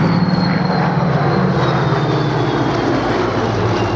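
A Hawker Hurricane's piston engine drones loud and steady as the fighter passes, a continuous throaty roar with a faint rising whine riding above it.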